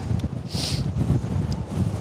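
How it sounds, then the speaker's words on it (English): Strong wind buffets the microphone in a constant low rumble, with a brief hissing gust in the middle. "I know it's blowing a gale. Forgive me if it's windy"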